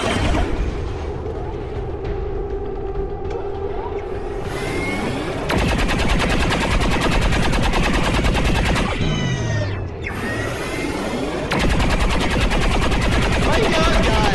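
Automated turret in XCOM 2 firing long, loud bursts of rapid machine-gun fire, near and sustained with short gaps, mixed with game effects and a voice talking.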